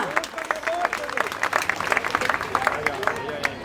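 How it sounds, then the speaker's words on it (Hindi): Applause from the audience at a women's awareness gathering: dense, sustained clapping through the whole stretch, fairly close, with some voices and crowd murmur mixed in underneath. "बहुत बढ़िया, एक बार जोरदार तालियां।"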